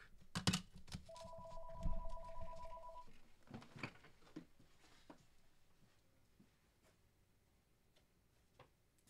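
A telephone rings in a card shop after hours, one steady electronic trill lasting about two seconds, with clicks and faint knocks around it, then quiet room noise.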